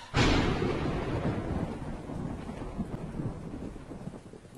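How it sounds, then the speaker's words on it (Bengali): A loud, close thunderclap bursts suddenly with a sharp crackling onset, then rolls and rumbles steadily down over several seconds. "অমনি কর্কর শব্দে প্রচন্ড জোরে একটা বাজ পড়ল"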